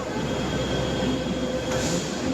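A Delhi metro train runs with a continuous rumbling roar and a sustained thin metallic squeal from the wheels, steady and fairly loud.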